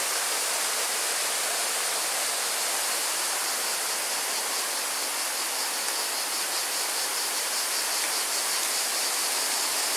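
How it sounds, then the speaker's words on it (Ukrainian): Steady broadband rush of flowing water, constant and fairly close, like a stream or small outflow running without pause, feeding a trout farm in the mountains near Budva. "звідси поступає вода"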